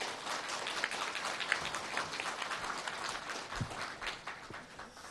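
An audience at a forum welcomes a guest lecturer with steady, moderately quiet applause, a soft patter of many hands for about five seconds.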